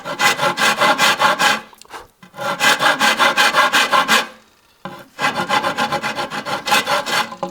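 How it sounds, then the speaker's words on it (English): Hand saw cutting into a wooden stick to shape the shelf of a homemade longbow, rapid rhythmic rasping strokes in three loud, close bursts separated by short pauses. "I don't cut the shelf all the way in to start with. I just cut it a little ways in to see how it's lining up."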